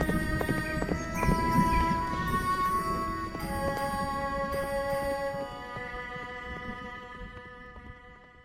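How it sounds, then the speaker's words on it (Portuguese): A horse gallops in a fantasy audio drama, a rapid run of hoof clip-clops under ringing tonal music that fades gradually toward the end. "ele cavalgou como um relâmpago"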